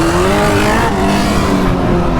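Kawasaki ZX9 motorcycle engine revving hard and accelerating at the start of a race, a loud, close, rising high-pitched whine that climbs steadily through the gears without pause.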